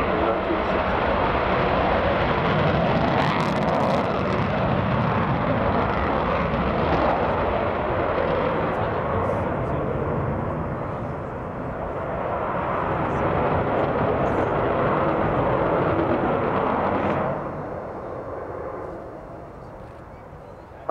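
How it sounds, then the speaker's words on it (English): The Avro Vulcan B2 bomber XH558 roars overhead at the Royal International Air Tattoo air show, a loud sustained jet engine rush that swells and fades, with a commentator talking over it. "This particular aeroplane was the first B-2 version of the bomber"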